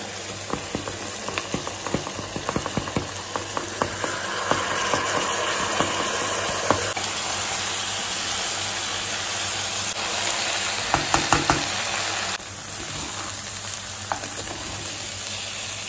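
Meat sizzling steadily in a hot pan for chicken biryani, a dense continuous frying hiss with scattered crackles and pops throughout, briefly dipping near the end, with no talking.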